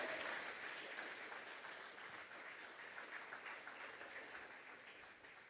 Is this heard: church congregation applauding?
yes